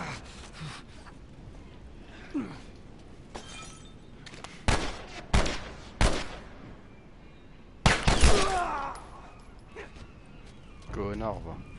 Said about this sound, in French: C'est qui me tire dessus là?